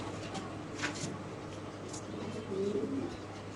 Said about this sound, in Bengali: এটা হলো নাসেল ট্রাফ কবুতর, দেখেন ভাই কোয়ালিটি দেখেন মাশাআল্লাহ